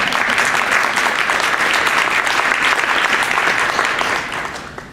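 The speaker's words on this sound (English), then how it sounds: "Could you please stand for a round of applause?" A standing audience at an evening school event applauds teachers, thick sustained clapping at full volume that eases off only at the very end.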